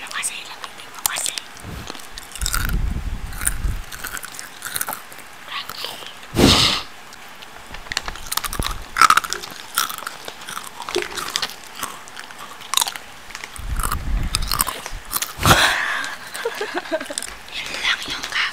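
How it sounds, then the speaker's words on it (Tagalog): People eat and chew food close to the microphone for ASMR, with intermittent crunchy bites and wet chewing bursts between soft whispered talk. "Kumakain lang kami."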